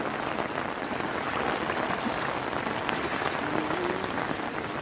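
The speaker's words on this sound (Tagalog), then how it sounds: "Kasi malakas ang ulan dito." Heavy typhoon rain pours down amid flooding in a continuous, dense hiss of drops, steady and loud throughout with no voices.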